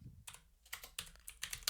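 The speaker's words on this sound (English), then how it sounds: "You hear me typing now." Clatter of keys on a computer keyboard, a run of quick uneven clicks in small bursts, close and fairly quiet, with no talking over it.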